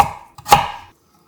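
A knife julienning a peeled carrot into thin 0.3 cm strips on a cutting board gives a couple of quick, close chopping taps, the second one sharper, then silence.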